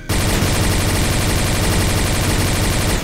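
A pulse rifle from a Doom 2 mod fires in pulse mode, a loud, unbroken stream of rapid energy shots crackling for the full three seconds.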